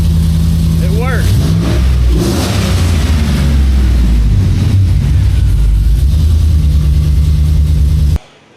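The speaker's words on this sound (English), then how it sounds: "You guys just heard we fired the truck up and it runs" A 2010 Chevrolet Silverado pickup with air suspension bags and 26-inch wheels idles and revs loudly close by, a steady deep engine rumble with a rising rev near the start, ending abruptly.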